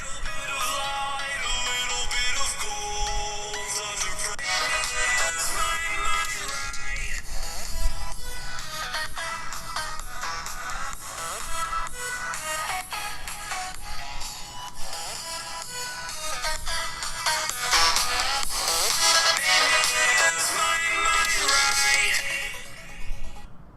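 Music played through the built-in speaker of a BlackBerry Priv phone at about 80% volume, heard continuously at moderate loudness with a bright, thin tone and no talk over it.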